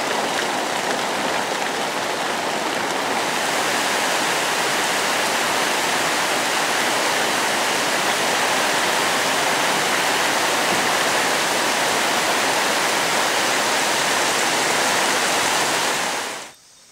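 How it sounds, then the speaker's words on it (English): Heavy rain shower in the Amazon jungle of western Peru, a dense, continuous hiss of rainfall on foliage, loud and steady throughout before cutting off abruptly at the end. "rain shower in the Amazon, right before our very first hike."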